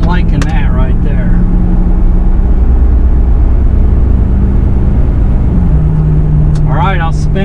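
A Ford F250 with a 6.7 Powerstroke diesel tows a heavy load uphill, its engine a loud, steady drone with a change in pitch as it shifts gears, while a person talks over it.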